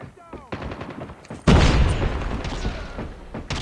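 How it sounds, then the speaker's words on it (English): A grenade blast bursts out loudly in the middle of a Call of Duty Mobile match, with a heavy boom and crackling gunfire ringing on afterward and scattered sharp shots before it. "Grenade out!"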